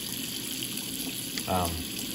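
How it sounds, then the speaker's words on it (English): Hot water pours briefly for a smoking liquid used while meat cooks in a smoker, a short gushing splash near the close over steady background hiss. "I'll do 1 cup of hot water"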